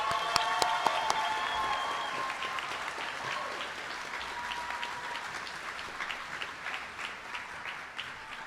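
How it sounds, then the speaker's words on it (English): Applause for a middle school homeroom class at an eighth grade farewell ceremony, a sustained crowd clapping in a large room that begins with a few cheers and whistles and gradually fades. "Can we get a round of applause for my homeroom?"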